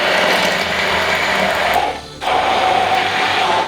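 Kitchen blending machine whirring loudly as vegetable oil is worked in for tartar sauce, a steady motor drone that dips briefly in the middle before resuming at full strength.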